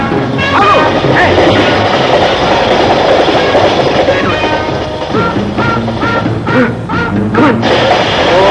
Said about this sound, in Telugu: Oh bloody train.